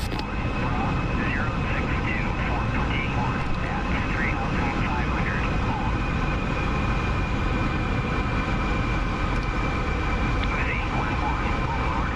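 Steady, continuous roar of an F-14 jet in a DCS combat flight simulator, loud and unbroken throughout, with faint radio-like voices speaking over it.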